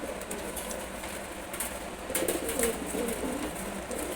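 Two young silver gorra pigeon chicks, about two months old, coo softly and intermittently at close range against a steady background hiss, with a few brighter calls toward the end.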